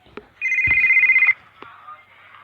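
A mobile phone rings inside the game GTA Vice City: a steady, loud electronic trill lasting about a second, sitting over quiet game sounds with a few soft clicks around it.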